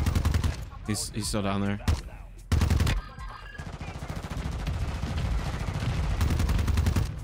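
Bursts of automatic gunfire from Warzone 2 gameplay crack loudly and close, broken by short pauses before a long sustained volley, with a voice speaking over the shooting.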